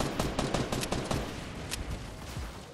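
Rapid gunfire from the video game Fortnite, a quick string of sharp shots fired in fast bursts that thin out toward the end, at moderate loudness.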